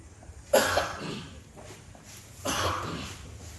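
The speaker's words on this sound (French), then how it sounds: "je suis en train de tousser" Two harsh coughs about two seconds apart, close to the listener, each a short rough burst followed by quieter breathing.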